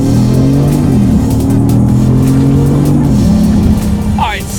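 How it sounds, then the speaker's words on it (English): A 2019 Genesis G80 Sport engine droning loud and steady from inside the cabin, its pitch stepping down as paddle-shift downshifts go through near the end, without talk over it. "I'm going to have to downshift a couple times, and let's test out the paddle shifters here."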